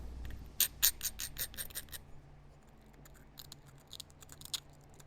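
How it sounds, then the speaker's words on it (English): A knapped Scottsbluff-style stone point from rough Iowa rock has its stem ground with a quick run of sharp scraping strokes close by, then fainter, scattered rasps over a low background hum. "I'm gonna grind this stem."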